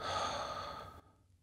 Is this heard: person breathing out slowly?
yes